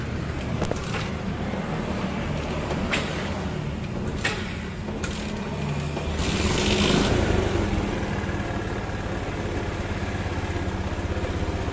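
A Yamaha Jupiter MX motorcycle engine, under repair for a weak charging system, runs steadily close by and then gets a stronger throttle blip that lifts the revs before it settles back to a busy idle.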